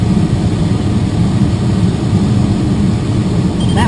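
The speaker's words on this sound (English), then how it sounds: "that's the plane coming in" Steady engine drone of a powered airplane approaching near a glider in flight during a 2013 gliding competition, a continuous broad rumble filling the whole stretch with no talk.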